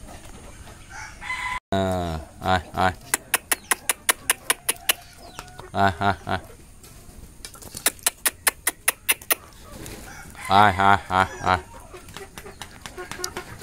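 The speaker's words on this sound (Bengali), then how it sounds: "এখানে লালটা মোরগ, লাল 3টা আছে মোরগ। আর এটার মোরগ, আরগুলো হচ্ছে সব মুরগি বাচ্চা।" Hill-breed roosters, hens and chicks cluck and call in a series of sharp, repeated bursts, close and loud, while a person repeatedly calls out to the flock over them.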